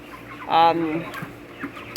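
A single short cluck comes from young meat chickens about seven weeks old, close and clear over a quiet background with faint stirring.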